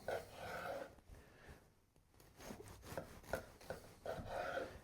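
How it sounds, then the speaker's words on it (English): Serrated bread knife sawing through a moist, buttery pound cake with crispy ends, soft close rasping strokes in uneven back-and-forth rhythm, quiet and without talk. "I have a bread knife, I'm cutting into it."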